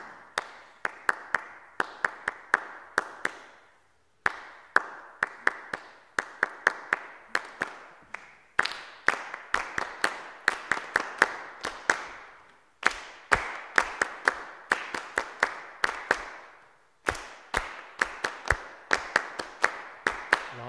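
A group claps a repeating rhythm, sharp close hand claps in clusters separated by short pauses, continuing for around twenty seconds without talk.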